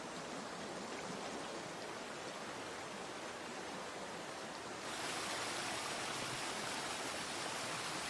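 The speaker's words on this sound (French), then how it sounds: "Cette eau jaillit des ténèbres et forme plusieurs torrents qui inondent de vie les premières vallées." Torrents of a mountain stream rush and pour in a dense, steady roar of flowing water that swells louder partway through, with no voices.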